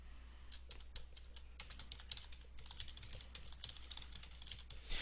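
Fast, steady typing on a computer keyboard, the key clicks close and clear in a quiet room, continuing without pause and with no voices.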